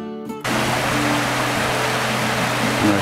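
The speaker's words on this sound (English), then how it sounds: "This little side tributary there with the waterfalls." A small side tributary creek spills over little waterfalls on a wooded Pennsylvania trail, giving a steady, close, full rushing wash of water that starts abruptly and holds even throughout.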